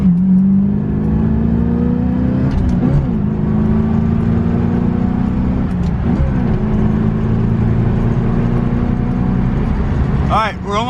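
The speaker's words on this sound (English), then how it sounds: "We're gonna try and accelerate." A Corvette running with no exhaust accelerates hard on a highway, its loud engine drone rising steadily in pitch with a rough, shaking edge, close up and continuous, with a brief higher whir near the end.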